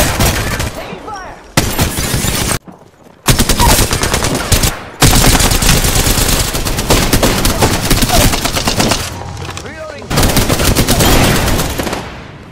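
Dense bursts of rapid automatic gunfire from the video game Apex Legends sound loud and close, with repeated fusillades broken by brief silent gaps.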